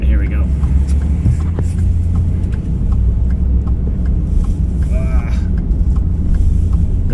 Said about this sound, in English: This is challenging, working with this four-wheel drive mess when I'm driving.